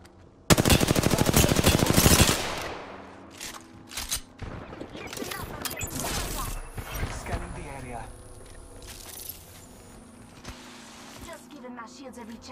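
Gunfire in Apex Legends, a loud burst of rapid automatic shots up front, then scattered bursts and shots with mechanical clicks and reloads fading lower, with game voice lines over it.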